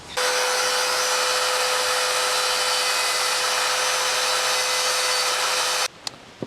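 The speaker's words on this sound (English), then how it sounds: "I'm going to come back with my Dremel tool with a bunch of bits and go ahead and grind it out" A Dremel rotary tool grinds a logo into a homemade branding iron, a loud, steady high-pitched whine with a constant tone running unbroken for about six seconds before cutting off, followed by a couple of faint taps.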